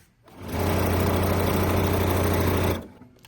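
A sewing machine stitches a quilted four-patch coaster at a slightly longer stitch length, running in one steady, close, humming burst of about two seconds that ramps up and stops.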